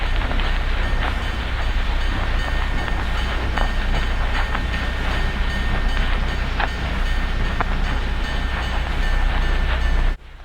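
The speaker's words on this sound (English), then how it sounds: "the engine roars into life and departs the yard with lots of steam shooting from the cylinders" Steam locomotive 3879 departs the yard with a loud, continuous roar and hiss of steam from the cylinders, with steady mechanical rumble throughout before cutting off abruptly.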